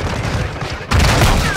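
Gunfire from a slow-firing gun in a first-person shooter, a steady dense burst of low booming shots that swells louder partway through, with a voice faintly underneath.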